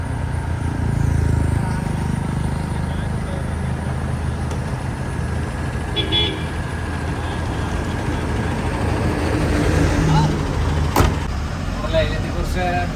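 A brand new 12-metre bus engine droning steadily while on the move, with road noise, a rattle or two, and people talking over it.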